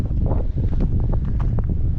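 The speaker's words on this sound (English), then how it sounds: "I don't think we're gonna be able to set up the tripod just in this kind of wind" Strong wind gusts roar across the rocky volcanic summit of Santa Cruz Island, buffeting the microphone with steady low rumble and irregular blasts throughout.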